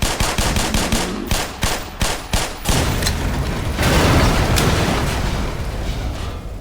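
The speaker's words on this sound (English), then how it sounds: "The explosions are also custom made." Custom-made explosions and gunfire in the video game Black Mesa: a rapid string of sharp, loud blasts for the first few seconds, then a sustained roaring rumble of detonations and debris that gradually fades.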